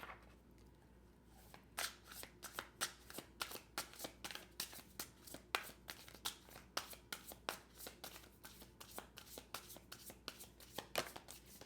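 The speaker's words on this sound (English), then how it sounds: "I'm going to shuffle one more time." Tarot cards are shuffled repeatedly, a rapid series of crisp riffling snaps at a steady rhythm, close and fairly quiet against a faint hum.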